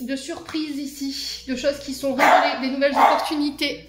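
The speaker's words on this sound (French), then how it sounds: "Excusez-moi pour le chien." A dog barks repeatedly nearby, sharp yips and bow-wows breaking out in clusters under and between a woman's continuous speech indoors.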